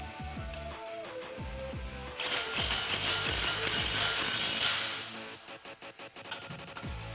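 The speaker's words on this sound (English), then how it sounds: "snug it up with a 14mm socket" A ratchet with a 14mm socket snugs an exhaust clamp on a 2015-2020 Ford F-150 dual exhaust system, giving rapid metallic clicking and scraping bursts up close, with a dense stretch mid-clip and sharp separate clicks toward the end.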